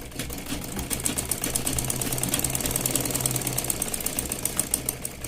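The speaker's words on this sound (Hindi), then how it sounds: "तो मैं इस पे सिलाई लगा लेती हूँ।" A sewing machine runs in a fast, even, rattling stitch along the shoulder seam of a lined blouse, loud and continuous throughout with no talk.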